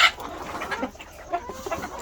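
Chickens cluck in short, scattered bursts around a tiger rooster on a farm where chicks are hatching, moderately close with no voices over them.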